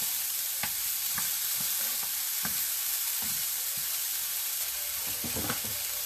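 Sliced food, cut into half-round slices, sizzles and fries in a pan with a steady crackle, broken by occasional scraping and stirring knocks from a utensil; no one speaks over it.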